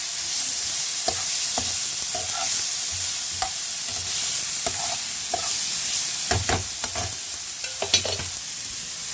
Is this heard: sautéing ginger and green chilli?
yes